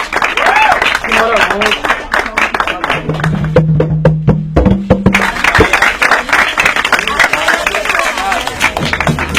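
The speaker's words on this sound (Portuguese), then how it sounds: "Salve de palmas." A round of applause from the crowd at a youth maracatu percussion gathering, scattered clapping and cheering mixed with someone speaking into a microphone, a sustained tone sounding partway through.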